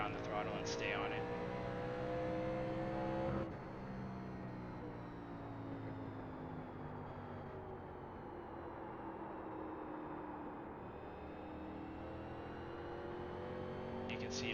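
A 1987 NASCAR stock car at New Hampshire in iRacing pulls hard out of a corner and stays on the throttle, its engine a loud continuous drone with shifting harmonics, with a voice speaking over it.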